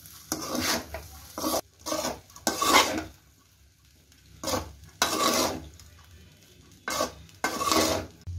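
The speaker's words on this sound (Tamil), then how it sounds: "அடியிலேருந்து கலருங்க. ஏன்னா ஹை ஃப்ளேம் வச்சுக்கணுனால அடி பிடிச்சிடும்." A spatula scrapes and stirs chicken fried rice in a pan over a high flame in repeated bursts of metallic scraping separated by short pauses, close and fairly loud.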